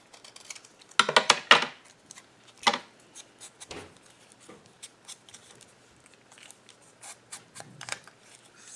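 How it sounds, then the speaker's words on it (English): Scissors snipping through paper for a craft project, a cluster of crisp close cuts early on, then scattered lighter snips and small clicks spread out across the rest. "I think it might be too big, so we're gonna cut this down a little."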